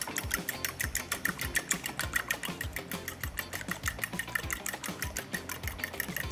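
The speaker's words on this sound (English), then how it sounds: "Now we're mixing our dry ingredients." Whisking sugar, icing sugar, flour and cocoa powder in a bowl for chocolate brownies, a busy rhythmic clatter of quick scraping strokes repeating steadily throughout, close and moderately loud.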